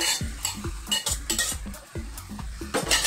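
Penne pasta tossed with sauce in a hot pan, with rhythmic, close scraping and clattering strokes repeating every half second or so over a light sizzle, and no voices.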